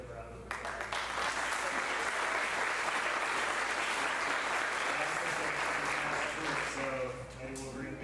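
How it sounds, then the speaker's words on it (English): Steady applause from a large audience at a high school sports banquet fills the room, a dense wash of clapping that swells and holds for several seconds, with faint voices and a hum underneath, then thins near the end. "I'd like to give her a round of applause"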